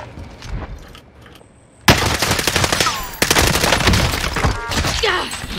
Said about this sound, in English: Shooting at me, no! Receiving hostile fire!